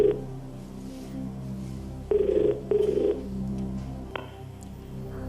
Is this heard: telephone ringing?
yes